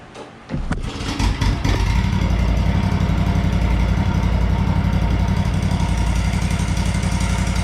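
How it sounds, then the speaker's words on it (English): A small Kawasaki FS481V engine on an Exmark Metro 36 lawn mower is pulled and sputters into life, then settles into a steady, loud, buzzing idle with no talking. "Going to start it up, let it idle, warm it up a little bit."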